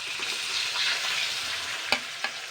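Ground banana flower paste dropped into hot refined oil, with a continuous bright sizzle and frying hiss, plus a couple of sharper pops near the end.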